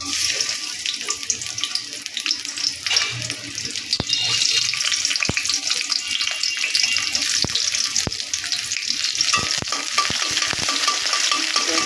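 Chopped onions fry in hot oil in a pan, a steady bright sizzle close by with sharp clicks of stirring scattered throughout, no talking.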